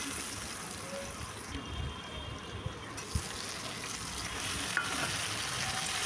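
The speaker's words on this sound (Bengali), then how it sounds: "তো এখানে পেঁয়াজ টমেটোটা দিয়ে দিয়েছি, দিয়ে হালকা করে ভেজে নেবো" Onion and tomato fry with spices in a pan, giving a steady, close, crackling sizzle that holds throughout with a few light knocks of a stirring utensil.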